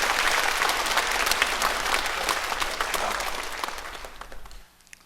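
A church congregation bursts into loud, dense applause during a sermon, many hands clapping continuously before it cuts off abruptly near the end.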